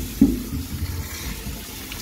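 Sweet potatoes rinsed under a running kitchen tap, a close, continuous gush of water with splashes and a brief louder splatter near the start, no voices.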